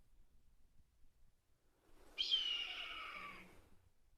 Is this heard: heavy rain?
no